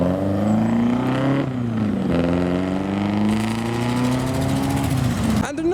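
A kit car called a Crendon drives off from a car show, its engine note rising and dipping as it revs through gear changes and pulls away, loud and close.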